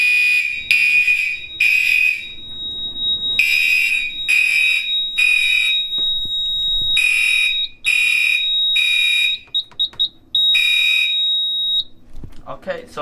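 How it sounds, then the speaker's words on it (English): A Silent Knight 5820XL fire alarm panel goes into alarm, its loud electronic sounder pulsing in repeated bursts of a steady high tone, with brief stutters partway through and low room noise underneath. "It looks like, yep, it's going into alarm."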